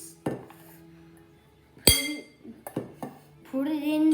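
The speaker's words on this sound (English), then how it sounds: "So we're mixing it." Cheese is mixed into food in a bowl, with a few sharp utensil clinks and scrapes against the bowl, separated by quiet pauses and ending in a brief rustling stir.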